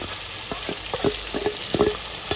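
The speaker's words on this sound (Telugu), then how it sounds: "తాలింపులో పచ్చడి వేసుకోవాలి." Ridge gourd chutney hits hot tempering oil with curry leaves and dried red chillies, giving a steady close sizzle broken by rhythmic stirring scrapes, with no voices.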